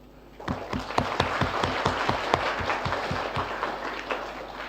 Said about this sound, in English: So could you please join me to thank the panel by a big applause?